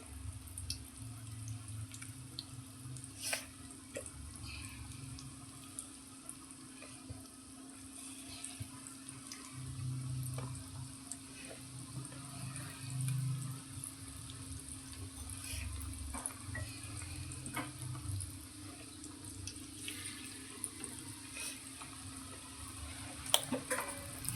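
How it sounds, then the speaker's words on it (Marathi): Bread pakoda deep-fries in hot oil with a steady, soft, continuous sizzle and hiss that stays fairly even throughout. "तेल मी गरम करायला ठेवलेलं ऑलरेडी तर हे आता मस्त आपल्याला असे तळून घ्यायचे"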